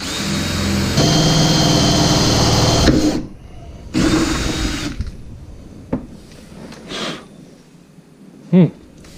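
Power drill with a 5/16 bit boring into a fiberglass boat transom, a steady loud whir for about three seconds, then a second shorter burst, followed by quieter clatter and a brief voice.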